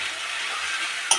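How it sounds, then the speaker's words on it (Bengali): Ginger, garlic, onion and chilli paste frying in a pan for a fish curry, a soft, even hiss of sizzling oil with a single sharp click near the end, brief and close. "এটাকে কাঁচা গন্ধ না যাওয়া পর্যন্ত এটাকে একটু ভেজে নিব"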